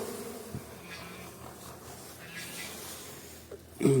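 Honeybees at an open hive during an inspection, a steady low buzzing hum throughout with a brief clatter near the end.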